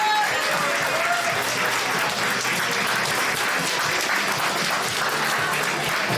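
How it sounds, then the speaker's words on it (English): A crowd at a varsity powerlifting meet between University of Liverpool and John Moores University gives loud, continuous applause that stays dense and even throughout, with scattered cheering mixed in. "So round of applause."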